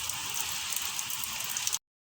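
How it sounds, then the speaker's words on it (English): Steady rain pours down with a dense, hissing patter on surfaces, continuous and fairly loud, then cuts off abruptly. "as you guys can hear behind me, the rain is falling"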